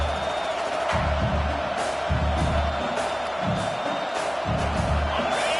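A football stadium crowd roars throughout a fourth-down play in an Alabama versus Notre Dame game, a dense, steady wall of cheering with swelling surges every second or so, heard from within the stands.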